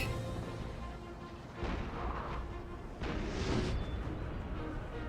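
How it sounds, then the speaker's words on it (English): Ten-pounder cannon fire on a Napoleon: Total War battlefield, with deep rumbling booms rolling over dense continuous battle noise, loud and heavy. "10-pounder team about to fire."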